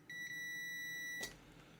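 A continuity tester gives a steady electronic beep for about a second during a switch repair, then cuts off with a short click, close and clear over a quiet room.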